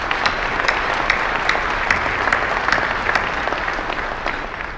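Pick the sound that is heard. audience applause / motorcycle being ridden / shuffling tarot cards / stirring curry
audience applause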